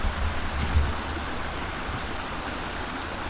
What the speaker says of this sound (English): Oh, that's that waterfall.